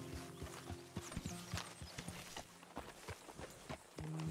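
Horse hooves clip-clop in Red Dead Redemption 2, a run of distinct, fairly close hoofbeats in an uneven walking rhythm, with game tones and a brief whinny-like sound around them.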